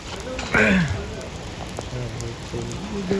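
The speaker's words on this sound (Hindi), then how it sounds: "ये देखें बारिश कितना ज़्यादा हो रहा है" Heavy rain pours down in Makkah, a dense continuous hiss of drops hitting surfaces, with a person talking over it at close range.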